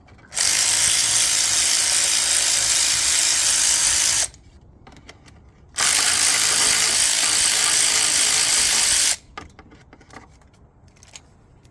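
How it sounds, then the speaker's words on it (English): Power tool or ratchet driving 10 mm coil pack screws on a Gen 3 Hemi engine, two long steady whirring runs of several seconds each separated by a pause, with clinks of tools between. "go one around one more time, all 16 10 millimeter screws, lock down the coil packs"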